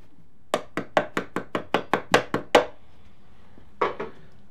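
A Suzuki Bandit motorcycle's starter cover, its bolts removed, takes a quick run of about eleven light, even taps, then two more after a short pause. The hits are close, crisp and clear, with no talk over them.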